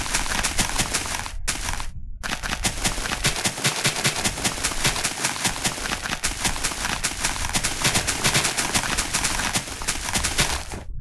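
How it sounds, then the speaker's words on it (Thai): Dense, continuous rapid-fire blasts from TNT explosions in Minecraft Java Edition, loud and near, sustained with only a brief pause early on and no talking. "เรามาลองระเบิดอะไรก่อนเพราะว่าระเบิดมันก็ใช้แรมเยอะนะ"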